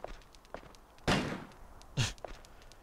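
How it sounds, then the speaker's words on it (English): Kick against a door in the Haunting Ground video game: two heavy dull thuds about a second apart, with softer footstep-like knocks before and after, quiet overall. "I don't need to like give this a kick"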